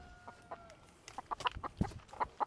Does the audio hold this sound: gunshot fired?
no